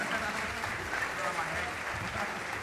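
Applause from the audience at a hospitality school graduation ceremony as prize winners gather for a group photo; steady, moderately distant clapping throughout, mixed with crowd murmur and talking.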